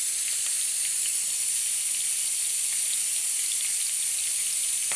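Garlic frying in hot oil for a methi bhaji tadka: a steady bright sizzling hiss holds throughout, with small spitting crackles scattered over it.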